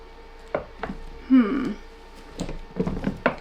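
Knife slicing through a bar of homemade soap, giving a few short soft thuds and one dragging cut, close and fairly quiet, with brief speech between the strokes.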